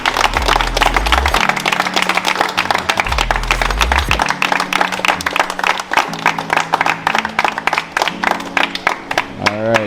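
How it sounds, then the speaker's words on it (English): An audience claps steadily through a Christmas gathering, the dense rhythmic claps blending with loud, bass-heavy music that plays throughout. "Can you give him a clap now?"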